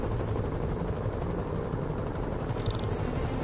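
A helicopter in a Spider-Man video game, a dense, constant rotor roar that fills the scene at a loud, even level throughout with no talk.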